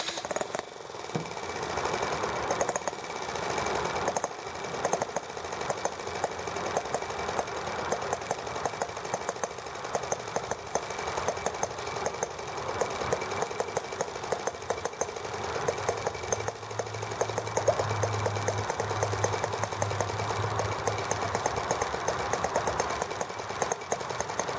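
A T26 engine runs at full throttle, a steady, continuous mechanical drone with a rapid knocking pulse throughout, alone with no talk.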